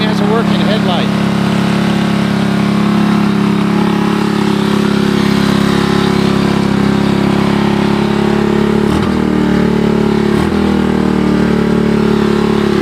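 A 1983 Honda ATC200 three-wheeler idles loud and close on a chilly 52°F day, its engine running steadily and unevenly without pause for the full stretch, with a couple of faint clicks late on.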